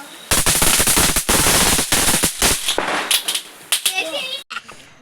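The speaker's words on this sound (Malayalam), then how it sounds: "പടക്കം പോകുന്നതും വാണം പോകുന്നതൊക്കെ കാണിച്ചു തരാം" Firecrackers and rockets burst at a Vishu celebration in a village, a rapid crackling string of loud pops that thins into scattered bangs, with voices heard beneath.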